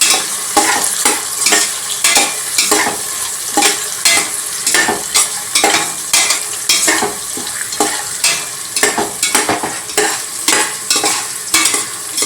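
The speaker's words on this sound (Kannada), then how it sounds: "ಫ್ರೈ ಮಾಡ್ತಾ ಇದ್ದೇನೆ. ಇವಾಗ ಗೋಡಂಬಿ ಮತ್ತು ದ್ರಾಕ್ಷಿ ಹಾಕ್ತಾ ಇದ್ದಾರೆ." Cashews and raisins fry in a pan for vegetable pulav, with a loud, close sizzle and repeated scraping strokes of a stirring spoon throughout.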